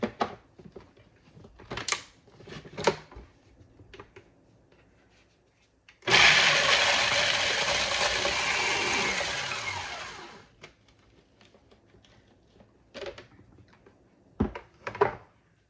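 An electric grinder whirs loudly for about four seconds as it grinds food ingredients in a kitchen, framed by quiet clinks, taps and handling noises before and after.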